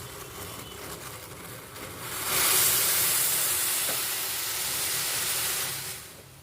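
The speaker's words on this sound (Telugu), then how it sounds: "ఇలా మరుగుతున్న డికాషన్లో అయితే టీ పౌడర్ వేసుకోవాలి." Steady steaming hiss from a masala tea decoction boiling in a pot after tea powder goes in, rising sharply partway through, holding loud and bubbling, then easing off near the end, with no talking.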